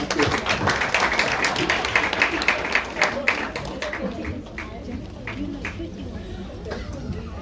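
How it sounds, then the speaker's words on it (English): Applause and clapping for a women's association team at an International Women's Day celebration, dense crowd clapping that stays steady for several seconds, then thins and fades toward the end, with some crowd chatter mixed in. "A round of applause for everyone."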